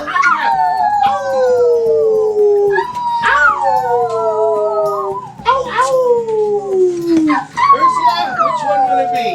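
A voice imitates a wolf howl, four long rising-then-falling wails in a row, loud and close, with small breaks between them.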